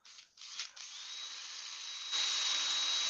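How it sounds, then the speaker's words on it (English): A small power drill bores a little hole while shaping a nose for a crafted figure, a high steady whine after a few short starts that grows louder near the end. "And drill a little hole."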